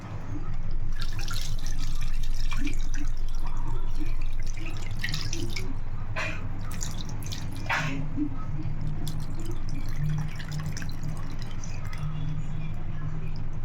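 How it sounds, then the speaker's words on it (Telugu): Tamarind juice being poured into a clay pot of fish curry, a wet trickling and dripping sound with a few splashes, close and steady for several seconds. "ఇప్పుడు చింతపండు రసం వేసేసుకుందాం"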